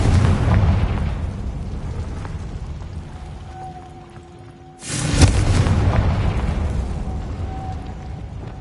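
Confringo fire-curse spell exploding in the video game Hogwarts Legacy: a sudden loud blast with a rumbling burst that tails off into a low roar over steady background hum.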